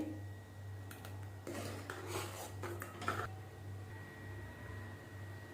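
A spoon stirs creamy rice kheer in a pot with the gas turned off, giving a few soft scraping clinks over a steady low hum.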